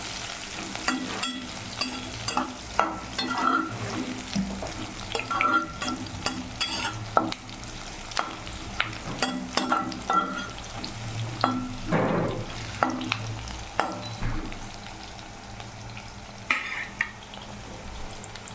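Onions frying in oil for semiya upma are stirred repeatedly. Close, rhythmic scraping and clacking strokes of a spoon against the pan sound over a continuous sizzle, with a brief quieter pause midway.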